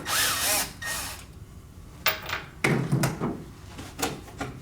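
A power drill backs out screws from a Grammer seat cushion in short whirring bursts separated by pauses, with clicks and handling knocks nearby, no talking.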